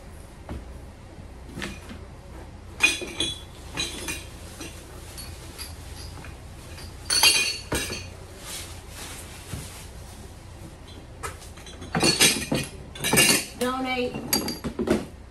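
Small glass shot glasses clink and rattle against each other and other items while being packed into a box inside a van, in scattered bursts of close, sharp clatter separated by quieter pauses.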